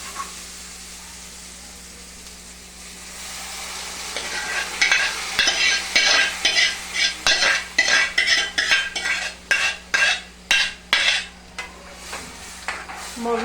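Moong beans stirred in a pan with a green masala fried in oil, a quiet sizzle at first, then a run of rhythmic metal spoon scrapes against the pan, close and loud, with no talk.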